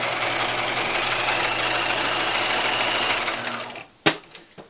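A sewing machine runs steadily as it stitches a flannel-style pajama pant leg, a dense continuous whir lasting about four seconds before it stops, followed by a single sharp click or clunk and faint handling noise.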